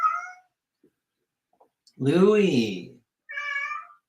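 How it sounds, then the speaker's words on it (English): A house cat gives one long, drawn-out meow, loud and close, with a person speaking briefly before and after it. "My cat's going to interject."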